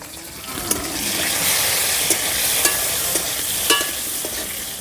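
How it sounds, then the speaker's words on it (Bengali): Cut potatoes fry in oil in a pan for a vegetarian dish, a steady close sizzle with several sharp scrapes and clicks of stirring, no voices. "এই আলুটা প্রথমে ভেজে নেব"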